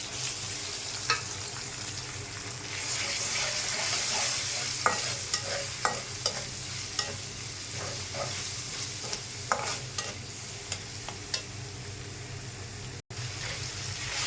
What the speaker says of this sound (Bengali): পেঁয়াজ রসুন আদা বাটা দিয়ে দিলাম